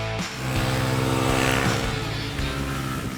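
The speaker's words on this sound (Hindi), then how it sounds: "स्टार्ट बटन को महज छूने पर ये मोटरसाइकिल स्टार्ट हो जाती है।" TVS Raider 125 motorcycle engine firing up via a silent starter with no cranking noise, settling into a steady close idle with low harmonic hum for a few seconds.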